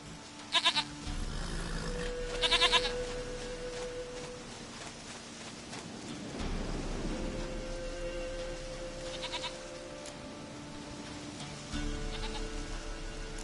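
Goat bleating in The Witcher 3 video game, several short wavering bleats spaced out over a steady ambient game soundscape, fairly close and clear.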